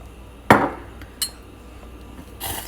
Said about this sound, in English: So I'm going to add 1 teaspoon of sugar at this point.